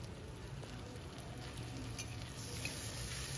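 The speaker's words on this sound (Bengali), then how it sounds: "ফোড়নটায় কয়েক সেকেন্ডের জন্য একটু নাড়াচাড়া করে এর মধ্যে দিয়ে দিচ্ছি কুচি করে রাখা পেঁয়াজটা।" Chopped onion frying in a tempering of spices in hot oil for a cabbage and fish-head dish, giving a steady, quiet, continuous sizzle with faint stirring and no speech.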